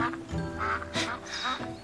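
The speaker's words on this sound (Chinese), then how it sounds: "这河边还有鸭子呢" Ducks quack by a riverside in a close, lively run of repeated nasal calls with brief pauses between bursts, no talk over them.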